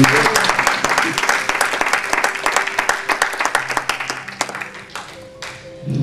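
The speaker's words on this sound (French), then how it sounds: "Applaudissons le Seigneur pour lui." Congregation applause at a French-language prophetic church conference, many hands clapping close and loud with distinct individual claps, thinning out toward the end as a faint voice and sustained tones come in.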